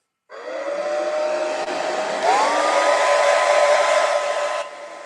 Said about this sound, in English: Hey Justin, I'm gonna hit this thing with the hair dryer again